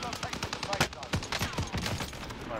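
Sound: gunfire in Call of Duty: Warzone Pacific video game

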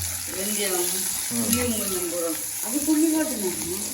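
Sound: frying and stirring anchovy curry in a pan on a gas stove

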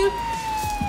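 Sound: siren sound effect

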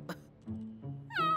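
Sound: cat meowing

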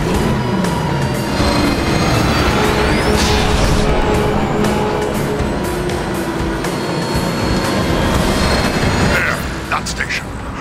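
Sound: train rushing past in the video game Transformers: War for Cybertron

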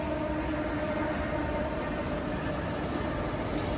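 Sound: Amtrak train passing on the Union Pacific line

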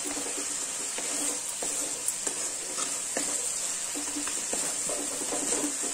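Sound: masala being roasted in oil in a pan

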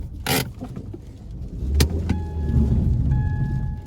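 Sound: Ford Focus wheels spinning in place on a muddy mountain road

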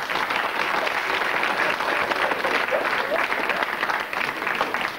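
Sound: audience applause

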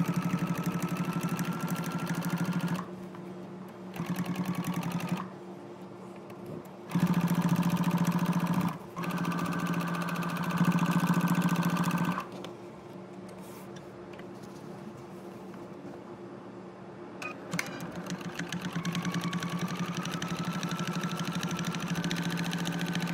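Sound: sewing machine stitching fabric seam for a ruler bag

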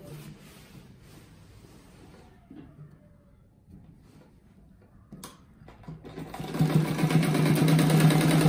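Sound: sewing machine stitching a fabric rug

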